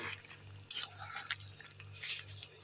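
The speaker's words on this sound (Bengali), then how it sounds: "আবার একটু নেড়ে দিচ্ছি" Chicken curry being stirred in a pot, with a few scraping clinks of a spoon against the metal over a low steady hum, close and fairly quiet.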